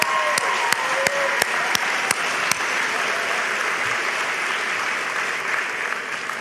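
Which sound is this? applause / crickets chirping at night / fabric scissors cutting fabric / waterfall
applause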